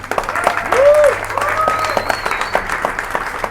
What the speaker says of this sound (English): A big round of applause for your MC for the evening